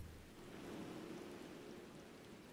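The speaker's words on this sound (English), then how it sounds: "I'm sorry, it's raining pretty bad." Heavy, steady rain pouring in a foggy Final Fantasy XIV: Dawntrail scene, a dense, even hiss with no voices.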